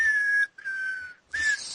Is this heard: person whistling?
yes